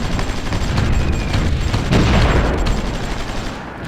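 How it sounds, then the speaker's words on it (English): Dense, continuous barrage of gunfire and explosions from a wartime strategy video game, loud rumbling booms layered with rapid firing, with no let-up throughout. "We're bombing them as they go through the canal, which I like a lot."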